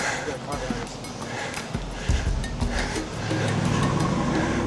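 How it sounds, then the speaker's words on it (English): Tractors driving on a beach make a low engine rumble that rises toward the end, heard beneath people talking, with wind and surf noise around it. "We got real tractors on the beach right now."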